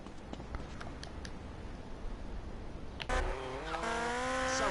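A car is stolen and driven off in Grand Theft Auto Vice City, with a quiet, rumbly ambience giving way to a sudden engine rev and rising acceleration, tires squealing as the car pulls away.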